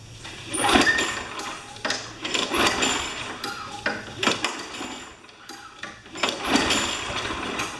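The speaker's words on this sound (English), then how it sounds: "we're going to just try and start it and see what happens" A small engine on a John Deere JS25 being cranked, with a few rough, rattling mechanical bursts spaced several seconds apart that don't catch and run, and no voices.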